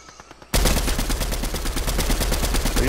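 Sustained automatic gunfire in a VR battle royale game erupts after a brief quiet moment, with loud rapid bursts of shots continuing steadily and densely until the end.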